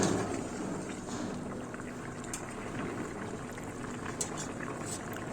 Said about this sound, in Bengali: তরকারি বলক চলে এসেছে